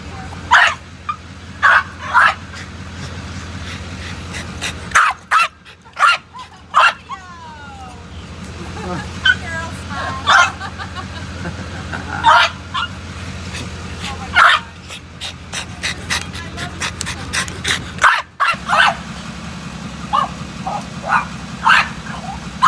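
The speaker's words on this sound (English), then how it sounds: "he does move around and bark like crazy" A dog barks in sharp, loud bursts, some single and some in quick runs, spread through the scene with short yips between and brief talk nearby.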